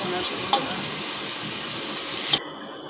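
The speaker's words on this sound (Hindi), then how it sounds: "प्याज लाइट गोल्डन ब्राउन हो रहे हैं" Onions sizzle in hot oil as they fry toward light golden brown for a tinda curry, a steady close hiss with two soft spatula knocks before it cuts off.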